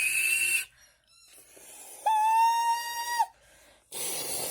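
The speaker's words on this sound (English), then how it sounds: "The guard blew his whistle." A train guard's whistle sounds once as a single sustained shrill tone lasting about a second, loud and clear against a quiet background.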